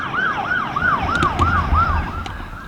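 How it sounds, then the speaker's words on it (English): A wailing emergency siren, likely a fire truck's, sweeps up and down in a steady repeating cycle, loud and close, with traffic rumble underneath, out in the countryside. "It's not very often you hear police sirens"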